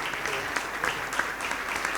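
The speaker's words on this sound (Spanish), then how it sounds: "Un fuerte aplauso pues para este hermano" Audience at a debate between an evangelical pastor and a Catholic priest bursts into steady applause for a departing guest, a dense wash of clapping that holds level for the whole stretch.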